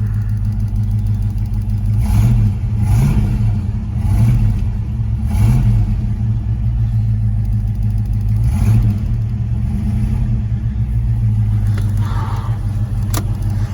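A 1969 Ford Mustang Mach 1 with a 351 V8 cranks and fires up, then revs several times in quick bursts before settling into a steady rumbling idle.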